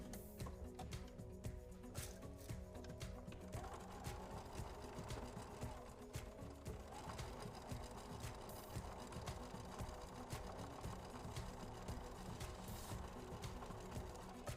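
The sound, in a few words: sewing machine stitching fabric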